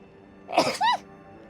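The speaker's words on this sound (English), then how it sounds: "Oh my god, I was sneezing up a storm." One person lets out a single loud sneeze in two quick bursts, a sharp intake followed by the explosive release, close to the microphone and otherwise quiet.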